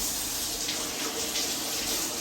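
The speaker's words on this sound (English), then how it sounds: "I add the water to it." Water pours steadily into a jar holding a pineapple top in a kitchen, a continuous near splash and trickle that runs the whole time at a quiet level, alone without speech.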